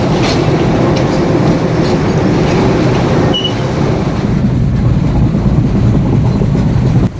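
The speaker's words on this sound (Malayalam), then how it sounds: "ട്രെയിൻ എത്തിപ്പോയി." A train pulls into a station in Galle, Sri Lanka, a loud steady rumble of wheels and carriages rolling close by, with faint clatter and a brief squeal, no voices.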